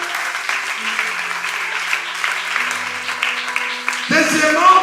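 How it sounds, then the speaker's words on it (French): A church congregation applauds at a service, a steady wash of clapping that runs throughout, with talk under it and a louder burst near the end. "Applaudissez le Seigneur."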